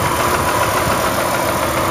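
A 3.5 liter V6 in a 2010 Dodge Journey idles under an open hood, a smooth, even hum held close and steady for a couple of seconds without speech.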